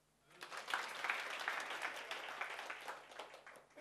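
A church congregation breaks into applause after a short quiet start, a fairly faint, distant patter of many hands that swells and then slowly thins.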